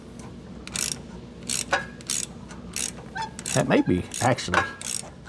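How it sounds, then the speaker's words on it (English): A ratchet loosening a stud on a Chevrolet Caprice, several short clicking bursts in irregular strokes, close by, with someone talking between them. "It's just coming loose, so I keep ratcheting it."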